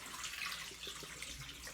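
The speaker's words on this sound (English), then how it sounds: "I'm going to drain this water off" Soaking water from sweet potatoes drains into a sink in a steady, close splashing rush of running water, continuous and fairly even with no talk over it.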